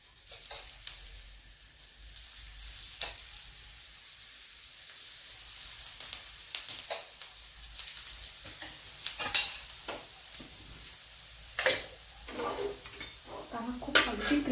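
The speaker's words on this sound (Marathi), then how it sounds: "आता आपण अजून थोडंसं तेल सोडतो म्हणजे अतिशय क्रिस्पी अशी आपली वडी छान होते" Coriander vadi frying in oil in a pan, a steady sizzle with occasional crackles and light spatula scrapes, close and moderately loud, with no talking.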